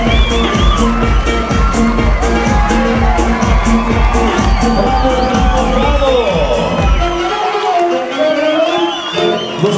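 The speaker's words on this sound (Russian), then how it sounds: "ваши аплодисменты, друзья" Birthday-party audience cheering and shouting loudly, a dense crowd roar with children's whoops and some clapping that carries steadily, thinning out near the end.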